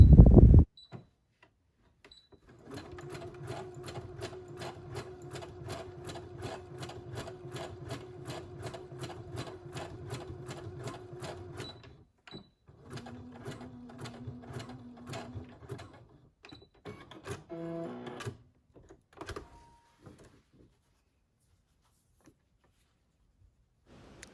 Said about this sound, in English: I'm doing a straight stitch here, but then I can also go back and do a zigzag